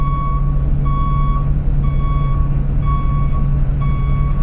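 Reversing beeps from a bus in the video game Sunshine Bus Simulator, a steady series of evenly spaced electronic beeps about once a second over a constant low engine drone.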